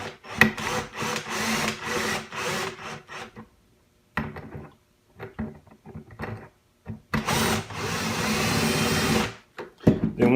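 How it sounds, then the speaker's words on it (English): Screws are tightened on the back of a Welock smart door lock with fingerprint entry, heard as close scraping and grinding bursts with pauses between, alone without talk. "just tighten up the screws on the back"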